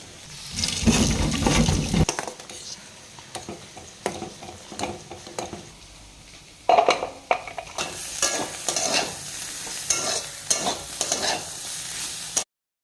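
Close, continuous sizzling of bitter gourd, potato and okra frying in oil in a pan, broken by repeated scraping stirs against the pan, with a loud burst of sizzle midway.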